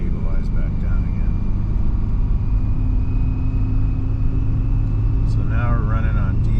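A Detroit 4-53T turbo diesel switched back to diesel fuel in severe cold, around -28C, drones steadily with a low, even rumble from inside the moving vehicle, and a voice speaks briefly over it near the end.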